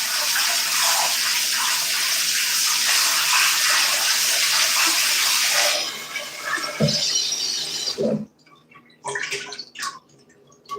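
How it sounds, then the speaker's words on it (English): Carrots are rinsed under a kitchen tap as water gushes loudly and steadily for several seconds, then the flow stops and leaves a few splashes and drips. "I'm going to just wash off my carrots"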